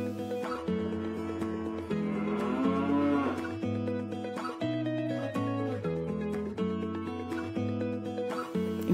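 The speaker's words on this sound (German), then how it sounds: "Und wenn man Glück hat, bekommt man von einer Kuh einen Kuss." A cow moos repeatedly, loud and close, long lowing calls following one another in an uneven rhythm with no talk over them.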